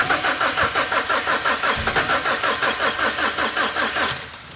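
A BMW 1 Series E88 with the N43 petrol engine cranks over on the starter in a steady, rapid rhythmic churn that stays loud and close without catching, then fades as the cranking stops.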